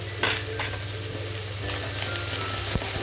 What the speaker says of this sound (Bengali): এখন আমি পেঁয়াজ আর রসুনটা কাঁচা লঙ্কাটা ভেজে তুলে নেব